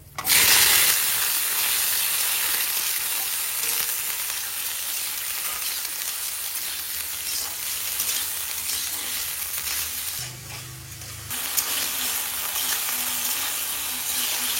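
Potatoes sizzle and fry steadily in hot ghee with panch phoron, two bay leaves and two dried red chilies, a loud continuous crackle with a brief stir or shift in the pan partway through.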